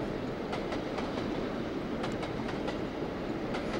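A long city tram in the Trainz railway simulator rolls steadily along its rails, with a continuous rumble and regular rhythmic clicks of wheels over rail joints, fairly close and alone.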